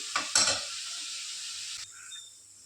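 Ingredients roasting in a pan over a low flame give a soft dry sizzle, opening with a couple of stirring scrapes before settling into a fading quiet hiss.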